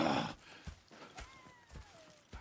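Horse hooves clip-clopping in the Red Dead Redemption II game, a few spaced hoof thuds at moderate distance with faint background ambience and no clear talk.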